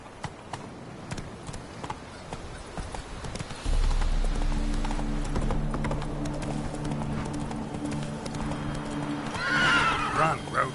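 Geralt's horse Roach in The Witcher 3 video game, hooves clip-clopping at a steady rhythm that picks up into a gallop, with a loud low rumble joining partway and a whinny near the end.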